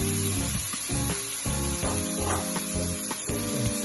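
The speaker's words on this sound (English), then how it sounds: "And you can hear the sizzle, so you know it's hot enough" Dense, continuous sizzling hiss of chicken in a hot pan, loud and steady, with faint low thumps and clatter underneath.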